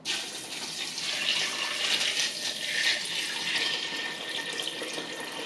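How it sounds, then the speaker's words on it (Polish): Water pours steadily from a tap over finely ground tiger nuts being soaked as carp bait, a continuous close splashing flow with no talk. "zalewamy orzecha wodą."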